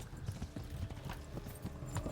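Horse hooves galloping in the Kingdom Come: Deliverance video game, a rapid steady clip-clop rhythm close up, with faint background game sounds.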